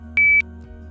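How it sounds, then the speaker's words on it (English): Philips Lumify ultrasound app confirming a saved loop with a single short, clean electronic beep, a steady pure tone lasting about a quarter second over a faint background hum. "Once you hear the beep, that means your loop has been saved to your exam."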